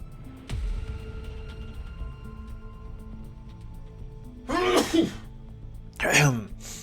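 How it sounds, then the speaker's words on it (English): Two sharp sneezes, close to the listener, the second following about a second after the first, over a quiet room with a faint low hum. "I'm gonna sneeze, hang on"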